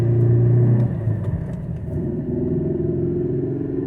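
Mercedes C230 Kompressor W203 with a six-speed manual gearbox drives along, its engine humming steadily with low road rumble and a brief shift in tone near the start.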